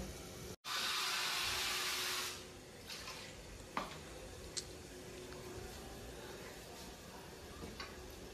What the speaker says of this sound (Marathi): पाच मिनिटं वाफेवर ठेवूया आपण